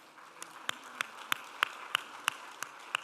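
Scattered applause at an airport press conference, a small crowd clapping in irregular sharp claps, fairly faint and thin with room quiet between hits.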